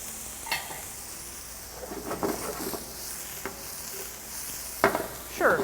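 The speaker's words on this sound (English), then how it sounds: "Get our pancetta in there." Diced pancetta sizzles in a pan with aromatics under a soft, steady fry, broken by a few spoon scrapes and stirring clatters against the pan.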